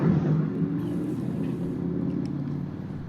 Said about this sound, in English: riding by on his motorcycle by your house